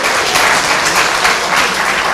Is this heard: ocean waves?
no